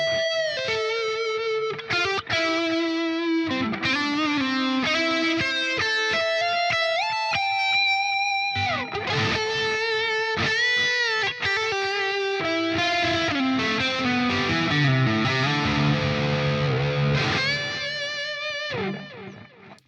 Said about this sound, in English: it's quite a nice lead tone. It's a little bit saturated, but it's not so saturated